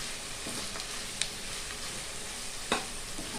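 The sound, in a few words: stirring spice powder into frying vegetables for fried rice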